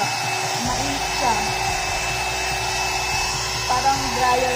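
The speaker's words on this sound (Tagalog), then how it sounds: "So guys, mayroon na akong hair dryer." A handheld hair dryer with low, medium and high settings runs as a steady, close blowing whir for the whole stretch, a continuous airy roar with no pauses.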